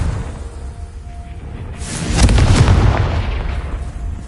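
A Confringo explosion spell goes off in Hogwarts Legacy on PS5, a loud booming blast with a whooshing burst that swells and then fades into a rumbling tail after a quieter lead-in.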